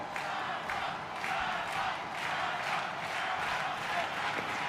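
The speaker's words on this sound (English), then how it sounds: "Crowd is chanting Ciampa here in Boston, Massachusetts." A wrestling arena crowd in the WWE 2K25 video game, set in Boston, chants a wrestler's name in a steady rhythmic roar, loud and continuous with pulsing beats throughout.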